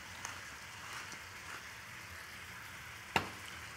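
Jalapenos and red and green peppers sizzling in a hot wok during a stir fry, a steady faint hiss of frying with a few soft stirring knocks and one sharper clink, no talking.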